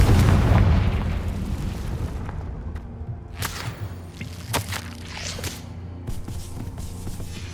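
A fiery Confringo spell explosion in the Hogwarts Legacy video game, a heavy booming blast that rumbles and decays, followed by scattered crackling debris and smaller thumps.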